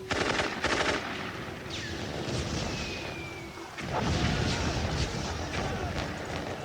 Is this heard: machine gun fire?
yes